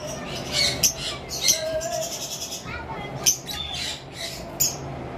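Pet lovebirds squawk in sharp, shrill bursts, several loud calls close by with chirps between, while a person talks quietly underneath.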